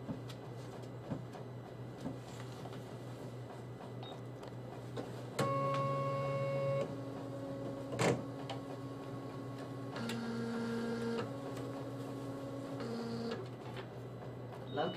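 Embroidery machine running a stitched design, a steady mechanical hum with a quick repetitive tick and pitch changes as the needle speed shifts, fairly close and alone with no talk.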